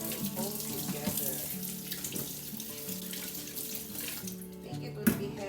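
A kitchen tap runs while items are washed beneath it, a steady splashing stream with clinks and shifting spatter as things move under the water, close and continuous.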